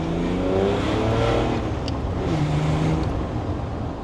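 A BMW M57 diesel engine in a Land Rover Defender revs loudly and steadily on a dyno, its pitch rising and falling as it is pushed hard past 5,000 rpm, with no talking.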